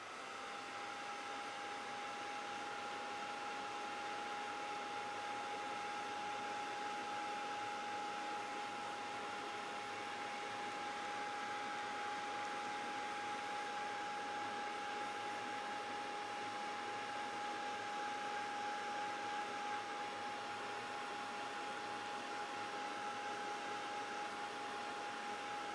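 A heat tool blows steadily while heating an embossed tile, a constant, fairly quiet airy whoosh with a thin tonal hum that runs unbroken throughout.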